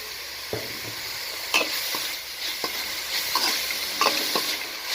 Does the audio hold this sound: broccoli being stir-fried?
yes